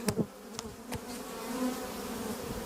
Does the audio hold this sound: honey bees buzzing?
yes